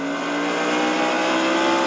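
A stock car engine screaming at very high revs on the short Martinsville oval in a racing game, a steady loud whine held for a moment with no break.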